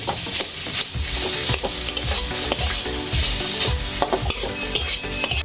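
Spatula strokes scrape rhythmically through potato and pea paratha filling tossed with fried spice powder in a hot pan, each stir a close clack over a constant loud sizzle, no talking.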